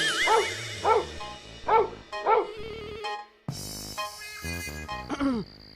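A dog barks and yips close by in several sharp bursts with short pauses, some barks rising into whimpering tones.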